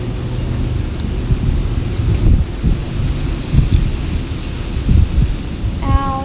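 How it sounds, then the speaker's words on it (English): Gusty wind buffets outdoors with low rumbling blasts and roaring bursts, loud and uneven throughout. "Ow, it's too windy today too."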